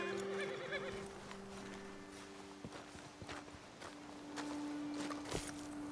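Horses in the Red Dead Redemption 2 video game stand after their riders dismount, their hooves clopping and shuffling with a whinny. The sound is fairly faint under a steady sustained tone.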